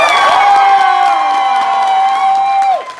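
A convention crowd at a Bronycon panel cheers and whoops, a loud sustained high-pitched shout rising over scattered clapping for about three seconds before cutting off.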